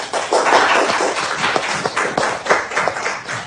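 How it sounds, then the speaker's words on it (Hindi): A school class claps for a new trainee teacher, a steady run of sharp, fairly close handclaps with uneven rhythm, swelling and fading over a few seconds. "तो तालियां हो जाए।"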